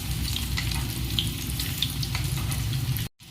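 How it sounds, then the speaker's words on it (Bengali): Potatoes deep-fry in a pan of hot oil while oil is spooned over them, giving a dense, continuous crackling sizzle close up. The sound cuts off abruptly just before the end. "ওপর থেকে তেল তুলে তুলে এইভাবে ওপর থেকে দিয়ে দেব, তাহলে ভালো করে সব ভাজা হবে।"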